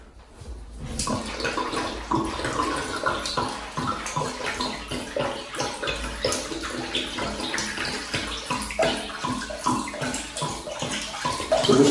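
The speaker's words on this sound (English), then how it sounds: "So this water here is just what was left in the radiator itself, the pipes, and the pressure" Leftover water from a bathroom radiator and its pipes, with the heating off, gushing and splashing steadily during uninstallation, a close, continuous pour with gurgles that swells slightly toward the end.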